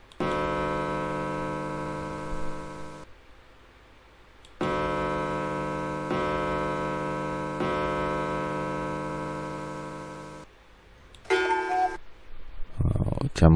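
A cuckoo clock sound effect from the 2001 educational game DK Play & Learn Reading and Counting: steady, loud, sustained tones in long stretches with brief pauses, followed by a few shorter sounds at the end.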